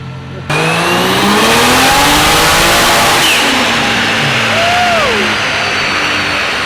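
A turbocharged R34 Skyline engine roars at high revs on a dyno at about 18 PSI boost, loud and close, its pitch climbing and sliding as it surges, with a whine and a blowoff hiss.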